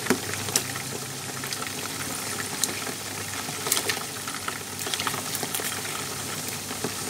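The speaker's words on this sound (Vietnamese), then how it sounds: "Mình cứ chiên đến khi nào chiếc cánh gà nó vàng" Steady, close sizzling and crackling of chicken wings frying in hot oil, with occasional sharper pops throughout.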